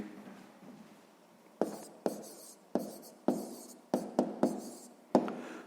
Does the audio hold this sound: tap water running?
no